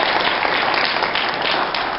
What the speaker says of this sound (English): So please give Mayor Finch a round of applause